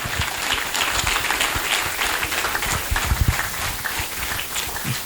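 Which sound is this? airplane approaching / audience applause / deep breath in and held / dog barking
audience applause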